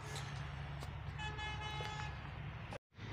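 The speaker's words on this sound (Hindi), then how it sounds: "साथ में ये मेन रोड है, उसकी वजह से थोड़ा सा शोर आता है" Traffic from a nearby main road beside a railway track rumbles steadily with a car horn tooting, the roar cutting out abruptly near the end.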